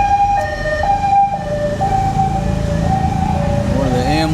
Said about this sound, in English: One of the ambulance services here.